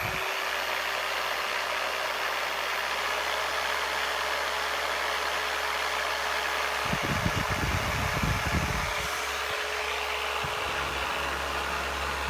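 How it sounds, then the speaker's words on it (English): A MaxShine "The Master" 15 mm orbital polisher, rated at 900 W, runs alone as its speed changes. A steady motor whine and hum holds on, with a rougher burst of higher-speed buzzing partway through. "I'm going to fire this up, go through the speeds quick, and you get an idea of the noise level."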